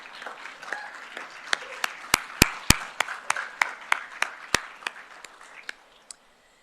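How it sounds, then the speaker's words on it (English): A conference audience gives a modest round of applause for attendees asked to stand: scattered, distinct claps from a small group, each crisp and separate, building briefly and then thinning out until the last few hands stop. "stand up, and we'll give you a round of applause."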